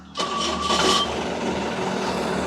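A car engine cranks and catches, then settles into a steady nearby idle, with a short burst of higher whirring at the start.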